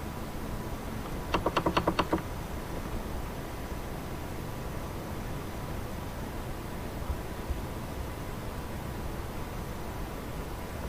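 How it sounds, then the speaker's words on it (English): A short burst of rapid keystrokes on a computer keyboard, close and crisp, lasting about a second over a steady hiss of room noise, then quiet. "Let's see if I can't get some typing in while we wait for everybody else to file in."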